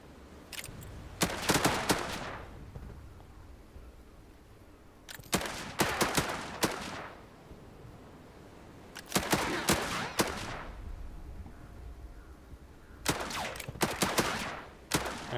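Bursts of German gunfire in the WW2 strategy game Headquarters: WW2, four separate volleys of rapid shots spaced a few seconds apart, loud and sharp with quiet gaps between them.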